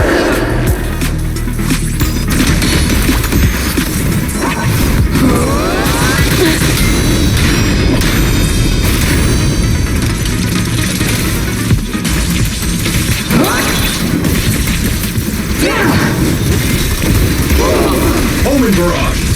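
Full barrage salvo explosions from Zenless Zone Zero: a dense, continuous wall of loud booming and crashing impacts with no gaps, overlaid by voices and battle noise.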